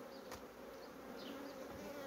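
A loud, continuous hum of honey bees swirls around an opened, varroa-infested hive, the buzzing holding steady and near throughout the brief moment.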